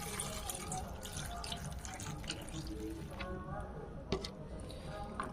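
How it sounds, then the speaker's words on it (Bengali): Tap water runs over flat beans being washed in a bowl, a close continuous splashing with small drips and clinks, and faint talk beneath it. "শিমের মধ্যে জল দিয়ে দেবো, দিয়ে একটু ভালো করে ধুয়ে নেবো।"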